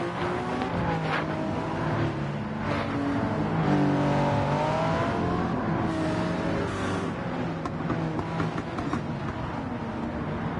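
In a Sao Paulo endurance race on a PlayStation racing game, race car engines drone and rev continuously behind the safety car, loud and steady with rising and falling pitch.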